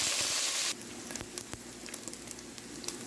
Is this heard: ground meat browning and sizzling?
yes